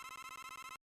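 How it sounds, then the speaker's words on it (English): A telephone rings in one brief burst of rapid, buzzy electronic trills, loud and alone, then cuts off abruptly. "I gotta get my HQ phone. It's going off."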